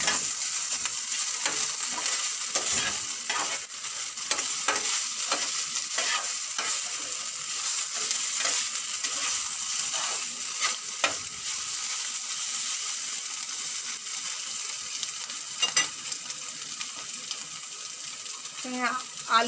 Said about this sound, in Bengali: ভালো করে মিক্স করে নেব মাছগুলো